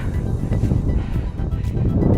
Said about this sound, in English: it's super duper windy and cold